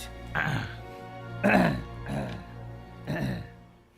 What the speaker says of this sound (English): he coughs more than I do, and I smoke and he doesn't